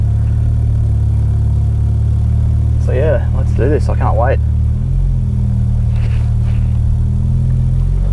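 Mitsubishi Evo X fitted with a new turbo, its engine rumbling steadily at idle and close by, with someone talking over it partway through.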